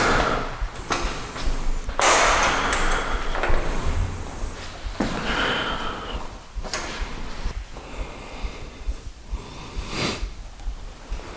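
Doors being tried and pushed inside an abandoned hospital in the Fukushima exclusion zone, giving a series of close thumps, rattles and scrapes of door hardware spread through the stretch, with no talk.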